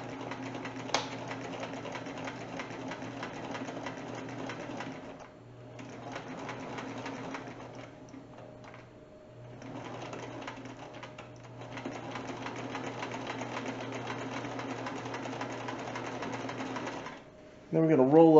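Sewing machine stitching denim for a wine bag, a steady mechanical whir running in long stretches with brief pauses and stops, a voice talking over it.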